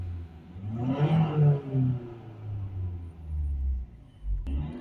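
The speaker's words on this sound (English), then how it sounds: "once you give it a few high revs, that quickly gets the pressure down" A Ford Transit Connect 1.5 diesel van engine, with a MAP and mass air flow correlation fault, revs toward 3000 RPM and settles back down, a deep rumbling roar rising and falling nearby, with a brief clunk near the end.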